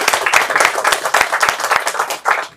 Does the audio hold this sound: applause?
yes